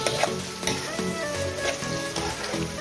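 Onions frying in oil with salt added, a loud close crackling sizzle broken by rhythmic scraping strokes from stirring, with no talk.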